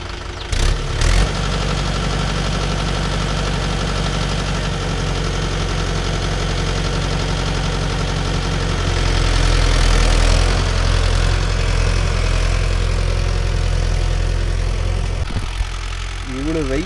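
A Mahindra Yuvo Tech Plus 585 4WD tractor idles nearby with a steady, low diesel throb that swells briefly louder partway through, while people talk over it.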